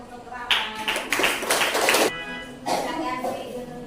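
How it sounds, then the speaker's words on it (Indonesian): Classroom applause for a student named Rama during a primary maths coaching lesson, several bursts of clapping from children over about two seconds, fairly close, with background chatter. "Beri tepuk tangan untuk Rama."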